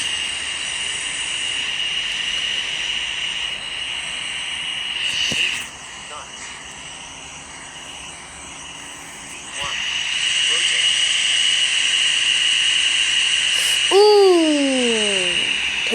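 Bombardier CRJ 900 jet engines in a flight simulator game give a steady loud whine and roar, dipping briefly in the middle and then rising again, with a descending electronic warning tone near the end.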